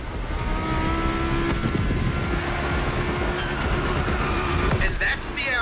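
An Audi R8 Spider races at speed in The Crew Motorfest, with a steady engine drone, brief tire squeal and a loud, continuous rush of road noise.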